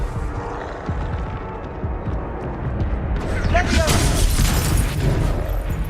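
A Confringo fire spell explodes in Hogwarts Legacy during a hard boss fight, a loud blast that swells over dense, continuous game combat noise; a voice speaks over it.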